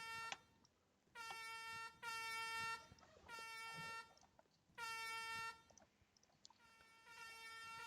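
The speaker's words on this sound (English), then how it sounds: "Everybody's honking their horns." A chorus of loud air horns and car horns blares in repeated long blasts with short gaps between, celebrating after a Formula 1 Canadian Grand Prix, over a low background murmur.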